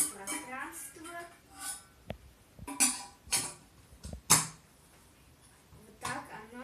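An Appetite brand kettle is opened and handled at close range: scattered light clicks and clinks of its lid and movable handle, with several sharper knocks, under intermittent quiet talk.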